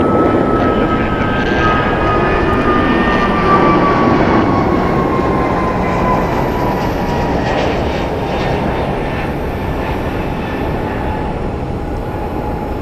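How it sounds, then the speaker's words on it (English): A jet takes off at Phoenix Sky Harbor airport, its loud, sustained engine roar with a slowly falling whine filling the whole stretch, no voices. "As this one takes off, the next one is cleared for departure."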